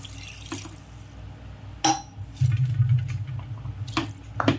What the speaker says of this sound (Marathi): आणि मग त्याच्यावर थोडं पाणी ओतायचं.